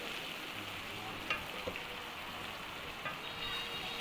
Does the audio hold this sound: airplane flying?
no